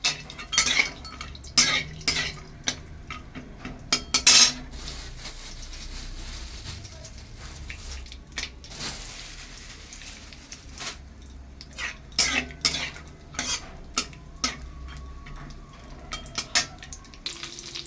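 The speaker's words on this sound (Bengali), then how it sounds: "এর মধ্যে আমি কাজু ভেজে নিচ্ছি" Cashew nuts frying in a pan at home while pulao is being made, with a soft continuous sizzle broken by sharp clinks and scrapes of a utensil stirring against the pan.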